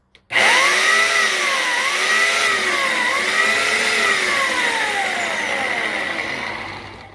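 Electric chainsaw with a freshly sharpened chain starting with a click and then running, a loud, close motor whine that rises and dips in pitch as it revs for several seconds before easing slightly toward the end.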